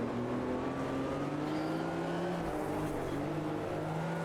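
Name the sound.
race car engine on the overrun, Automobilista 2 video game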